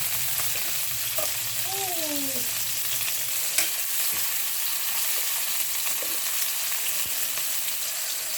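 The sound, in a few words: sautéing onion and tomato in a pan for ampalaya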